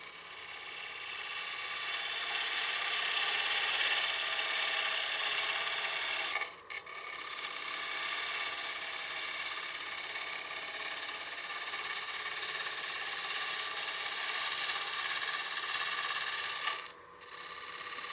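A 3/8 gouge rides its bevel across a spinning wood platter on a lathe, a steady close hissing scrape that runs on and on, broken twice by brief gaps where the tool lifts off.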